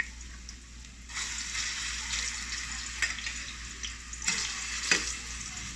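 Plantain fries in a pan with a steady soft sizzle and crackle, quiet and close, with a few light clinks and stirring scrapes over the hiss.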